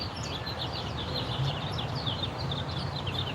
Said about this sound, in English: just listening to the birds chirping